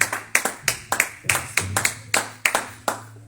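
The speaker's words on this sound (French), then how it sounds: "Est-ce qu'on peut acclamer pour le Seigneur?" A church congregation claps in worship, sharp irregular claps sounding close and loud over a low steady hum, with no talk.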